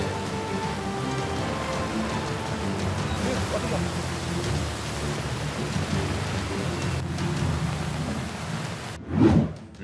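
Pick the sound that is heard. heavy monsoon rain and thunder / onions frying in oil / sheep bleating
heavy monsoon rain and thunder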